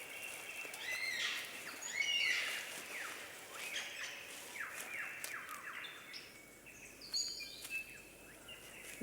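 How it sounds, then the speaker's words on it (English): A superb lyrebird of southern Australia sings in a forest, a varied run of whistles, chirps and trills at moderate distance over faint ambient hush. "superb lyrebird of southern Australia"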